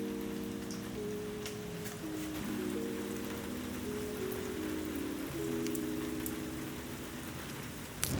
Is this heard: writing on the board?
no